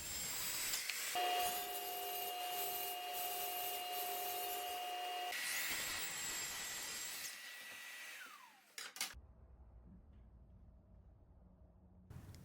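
Power tools drive brad nails and screws into glued plywood mattress platforms during bed building, a loud continuous whirring and buzzing for several seconds that stops abruptly, with only faint workshop noise after.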